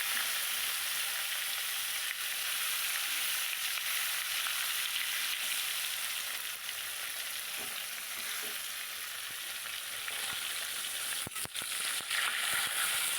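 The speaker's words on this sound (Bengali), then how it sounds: "তো তেলের ওপরে মাছগুলো ছেড়ে দিচ্ছি" Koi fish fry in hot oil with a steady, dense sizzle that runs unbroken throughout, with a few faint scrapes and taps of stirring near the end.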